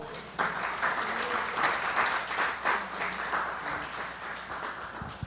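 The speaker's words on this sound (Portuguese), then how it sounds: "Eu queria que você desse uma salva de palmas ao Senhor." Church congregation at Igreja de Nova Vida do Catete applauding in praise during a service, a full, even roll of clapping across the room that swells and holds steady.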